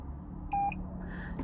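A Ghost 2 immobiliser fitted to a 2022 Toyota Yaris Cross gives one short, clear electronic beep over a low steady cabin hum.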